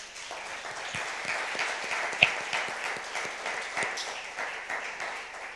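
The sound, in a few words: audience applause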